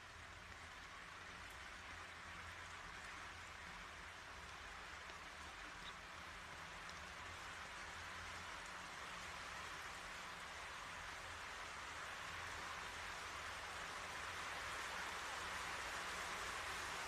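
Heavy rain falls steadily in the background, a soft, even hiss of downpour that stays faint and distant throughout.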